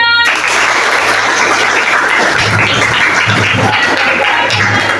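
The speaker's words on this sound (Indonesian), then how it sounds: "Beri tepuk tangan semuanya" A crowd applauds steadily after a group presentation, many hands clapping together in a dense, continuous patter that carries on throughout.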